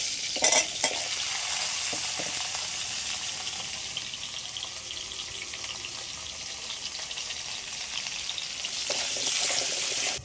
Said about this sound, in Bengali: এবারে একইভাবে আলুগুলো ভেজে নেব।